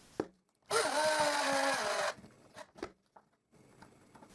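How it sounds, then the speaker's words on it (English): Power screwdriver driving a screw through a marquetry piece into the end of a wooden hanger for a doweling jig, one loud whirring burst of about a second and a half, followed by faint clicks and handling knocks. "Once again I screw the piece of marquetry to the end of the piece of hanger."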